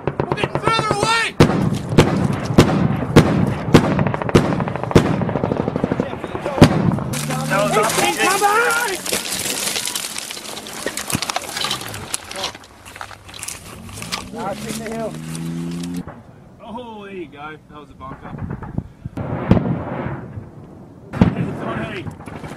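Heavy gunfire and incoming rounds crack and boom in bursts during a firefight in Uruzgan, Afghanistan, with loud nearby shots, distant impacts and soldiers shouting over the chaos.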